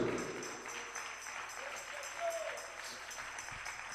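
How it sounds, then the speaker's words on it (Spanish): A church congregation applauds during a Sunday evening service, a steady, fairly faint wash of clapping with some voices mixed in. "Dele un aplauso al Señor."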